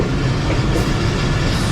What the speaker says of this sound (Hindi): 213 मोहनजोदड़ो एक्सप्रेस अप्रोच बना रही है लकी शाह सदर